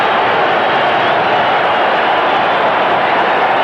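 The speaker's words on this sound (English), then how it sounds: "and the crowd love it" Steady, dense roar of a large crowd at a 1993 Transvaal rugby match, loud and continuous throughout without clear individual voices or pauses.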